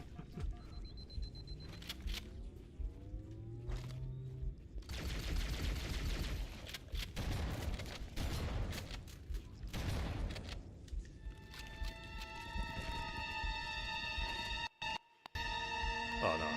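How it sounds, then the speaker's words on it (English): Video game grenades burst in a chaotic firefight, with several loud explosions and crackling bursts clustered mid-scene, mixed with gunfire, electronic tones and other game effects. "why all the grenades dropping on my ass?"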